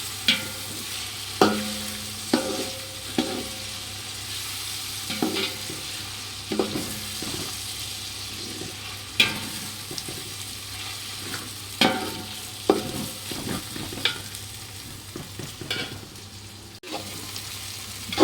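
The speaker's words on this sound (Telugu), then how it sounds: "కలుపుతున్నది పుదీనా, టమాటో, కొత్తిమీర బాగా కలిసేలాగా కలుపుతున్నాం" Mint, tomato and coriander are stirred together in a sizzling pan for mutton biryani. A spoon scrapes and taps the pan in regular strokes over a constant close frying hiss, with no talk.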